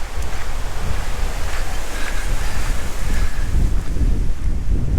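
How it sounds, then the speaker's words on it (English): Strong wind at the coast of a bay on Oahu's leeward side roars steadily across the microphone, a loud, continuous rushing with low buffeting and surf-like hiss and no voices. "It actually turned out to be a little windy here"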